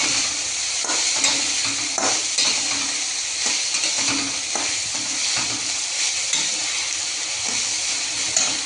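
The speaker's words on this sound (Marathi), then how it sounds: "डाळ हाताने हलवायची" Idli dal batter being stirred by hand in a pot, a steady wet swishing and squelching with faint clinks of the vessel, continuous and close with no talk.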